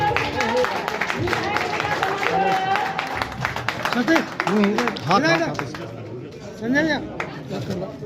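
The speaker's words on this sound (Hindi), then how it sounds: "ताली बजाते रहिए।" At a hotel opening ceremony in Darbhanga, an audience claps in a rapid patter during the first half, under someone talking loudly over it, before the clapping thins out.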